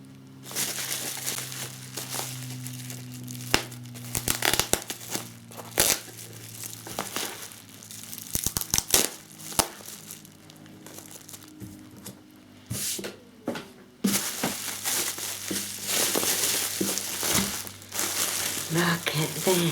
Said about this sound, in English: I love unwrapping things.